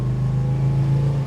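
A 1969 Dodge Charger R/T with a four-barrel V8 and four-speed, a steady deep engine rumble heard from inside while cruising, close and loud, brief and unbroken.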